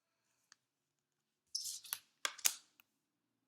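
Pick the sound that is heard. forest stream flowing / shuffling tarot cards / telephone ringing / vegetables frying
shuffling tarot cards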